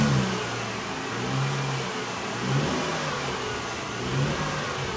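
A bus engine revs and pulls away, its mid-pitched drone swelling and easing in a few surges, loud and close, with no voices over it.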